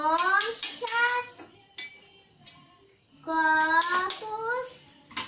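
Ladles, cups and pans clatter at home with a few sharp clinks, while someone talks and sings over them.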